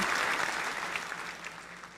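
Applause from a crowd, a dense wash of many hands clapping at once, steady and moderately loud, slowly thinning toward the end.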